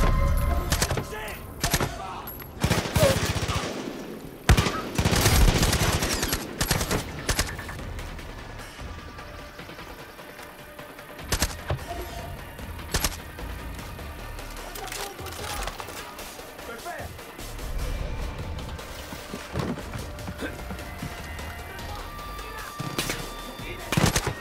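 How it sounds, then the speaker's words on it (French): Gunfire from the video game Far Cry 5: bursts of sharp shots and rapid automatic fire, loudest early on, then scattered cracks and thumps continuing over a steady in-game background. "Où est le mec qui me tire dessus?"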